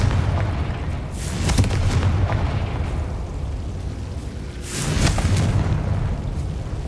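Confringo fire spell explosions in the video game Hogwarts Legacy, two booming bursts a few seconds apart over a continuous rumbling background.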